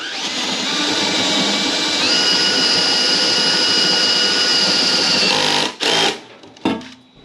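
A power drill with a step drill bit bores a hole into a metal ammo can, a loud sustained whine that runs steadily for several seconds, shifts pitch slightly, then cuts off abruptly with a couple of short bursts at the end.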